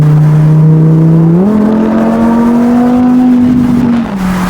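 A Lamborghini Huracan Spyder LP610 accelerating, its loud, close engine note stepping up sharply in pitch and holding a steady howl before easing off at the end, with no talk over it.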